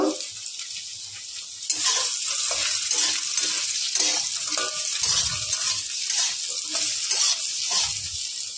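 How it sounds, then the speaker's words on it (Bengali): Potatoes and lentil dumplings (bori) frying in a pan give a loud, continuous close sizzle, with the occasional clunk of stirring and no talking. "আলুর ভিতরে বড়িও দিয়ে দেব, ভেজে নেব।"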